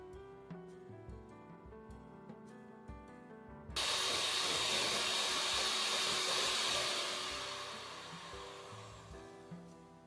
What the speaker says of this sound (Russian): Сначала взобьем до бела сливочное масло.